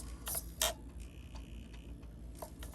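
Steering servo on a Carisma MSA-1E 1/24 scale RC crawler, faint whirring and ticking mechanical moves in a couple of quick bursts over a low steady hum, quiet and close.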